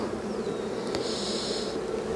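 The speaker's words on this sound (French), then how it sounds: "Donc, je lui prélève ses abeilles." Honeybees buzz around an open beehive frame in a steady, faint, close hum, with a brief louder whine of a single bee passing near, and no voices.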